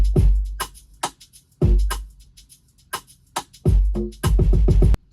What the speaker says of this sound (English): Let us start with some nice Afro swing drums.